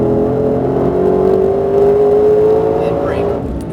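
A Ford GT on a race track holds a loud, steady engine drone with a rising whine, then eases off as it brakes and downshifts, with an instructor talking over the engine.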